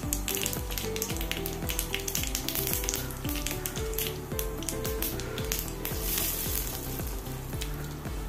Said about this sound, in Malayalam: കടുക് പൊട്ടിക്കഴിയുമ്പോൾ